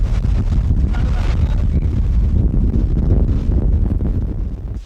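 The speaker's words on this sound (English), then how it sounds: "it's pretty windy today" Strong wind roars and buffets steadily against the microphone in open Outback country during a severe sandstorm, a constant loud rumbling gust with no talking.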